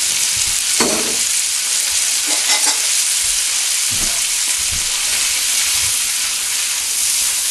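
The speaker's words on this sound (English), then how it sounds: "we're going to toss in our cabbage and get that started cooking" Red cabbage frying in butter in a home kitchen pan, a steady broad sizzle and hiss with a few louder crackles and stirring scrapes, close and continuous with no talk.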